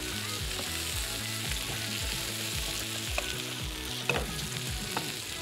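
Butter tadka for sarson ka saag frying in a pan, a steady loud sizzle that runs throughout, with a few light clinks of stirring.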